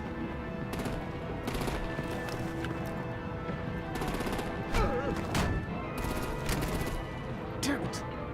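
Gunfire rattles in a Batman action game, with bursts of rapid shots repeating in clusters over a background of steady game ambience and scattered impacts.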